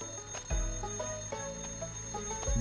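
Alarm ringing in Goat Simulator 3, a repeating electronic bell-like tone pattern with steady tonal lines, moderately loud and continuous with rhythmic pulses, no talking over it.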